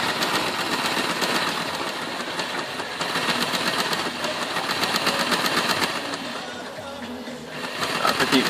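A Triang track cleaning car on a model railway, its small electric motor whirring steadily as the wheels spin in place on the track, a continuous buzzy close-up drone with slight rises and dips.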